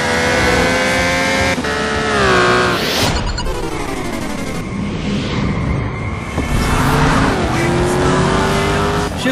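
Race cars roar through the Shift 2 Unleashed video game, loud engines rising and falling through gear changes as several cars pass close, with tire squeal and skidding mixed in.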